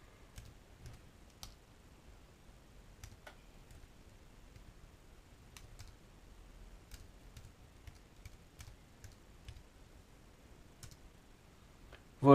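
Someone types a command into a terminal window on a Raspberry Pi keyboard, making sparse, faint, scattered key clicks over a quiet room hum.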